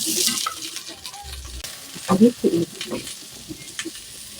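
Broccoli and pork stir-frying in a pan, a soft sizzle with scraping and stirring clatters in short bursts, moderately close and fairly quiet.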